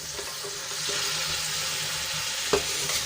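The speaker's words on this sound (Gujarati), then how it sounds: "અને હવે એમાં આપણે બાજરીના રોટલાના જે કટકા કર્યા હતા એ એડ કરી દઈશું" Pieces of bajra rotla tossed into a pan with a little water and stirred, making a soft, close sizzle with light scraping and one sharp clack partway through.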